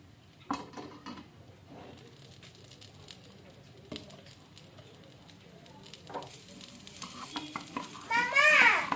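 Crispy dosa made from ration rice on a hot pan, with masala chilli powder sprinkled on and oil added. Light clinks and scraping of utensils lead into a loud, close sizzle that swells at the end.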